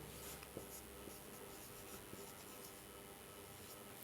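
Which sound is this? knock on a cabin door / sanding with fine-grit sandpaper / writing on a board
writing on a board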